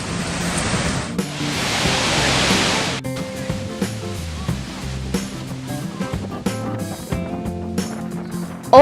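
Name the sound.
Skogafoss waterfall in Iceland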